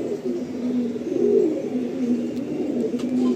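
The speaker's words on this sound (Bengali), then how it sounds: "এটা হলো নর পায়রা, এটা হলো মাদি পায়রা।" A male Madrasi pigeon coos in a low, steady murmur, with one louder swelling phrase in the middle and soft repeated coos around it, fairly close against faint background hiss.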